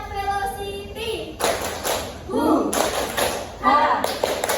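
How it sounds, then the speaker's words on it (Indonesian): A classroom of students performs a rhythmic spirit clapping chant, sharp bursts of hand claps and patting interleaved with group voices shouting the chant, in several loud, clustered beats. "Tepuk semangat velocity."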